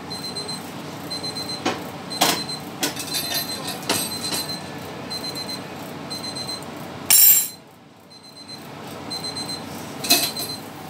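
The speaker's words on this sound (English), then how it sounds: "there's my timer" A kitchen timer rings during pizzelle making, giving repeated electronic beeps in regular bursts that are loud and close, with clatter between them and one sharp loud burst near the end.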